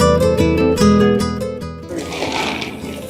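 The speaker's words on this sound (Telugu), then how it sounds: "ఫ్రై చాలా బాగా అయింది, అందుకనే ఈ గలగల సౌండ్." Cashews, almonds and figs crackle and sizzle as they fry in ghee. The bubbly hiss comes in close, right after a stretch of loud melodic music.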